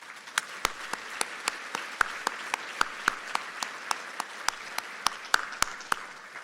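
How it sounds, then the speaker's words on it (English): A round of applause from the audience at a city State of the City address, with steady crowd clapping and sharp individual claps standing out throughout, moderately loud and continuous. "please join me in a round of applause for these dedicated members of our Chesapeake team"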